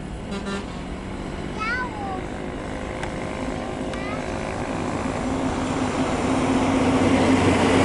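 A Garuda Indonesia airliner taking off at Blang Bintang airport in Aceh Besar, a steady roaring engine rumble that swells gradually louder, with voices talking nearby.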